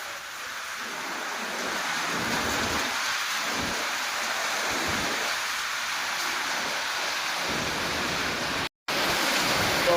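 Steady heavy rain in Coimbatore hisses loudly and continuously, with low rolling thunder rumbling underneath in several swells, and no one speaks over it.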